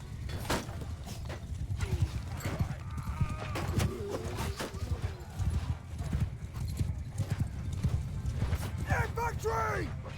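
Cavalry horses charge across a battlefield in Mount & Blade II: Bannerlord, with continuous near hoofbeat clip-clop, a few whinnies and battle noise under a speaking voice throughout.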